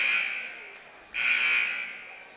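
A scoreboard buzzer at a high school basketball game gives two long, loud, steady electronic blasts, one right after the other, in a gym with no talking.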